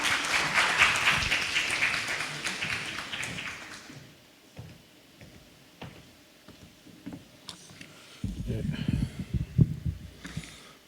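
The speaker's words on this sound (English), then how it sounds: "Please welcome him with applause." Audience applause welcoming the Ambassador of the Republic of Azerbaijan at a university forum, a dense burst of clapping for about four seconds that fades out, followed by quieter room sounds and a low voice near the end.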